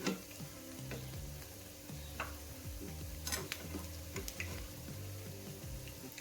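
Medu vada, crisp urad dal fritters, frying in hot oil, with a steady close bubbling sizzle and some light ticking and crackling pops throughout.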